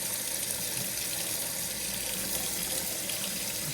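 Hot water runs from a tap in a house, its supply piped all the way from the garage, making a steady, even hiss of flowing water that holds at a soft level with no talk.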